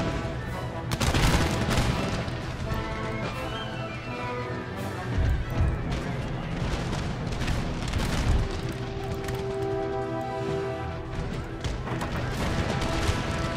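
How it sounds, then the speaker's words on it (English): Line infantry in Empire Total War let loose musket volleys, a sustained crackle of many shots with heavy booms and dense battlefield din rolling on without a break. "Fire this unit of line infantry."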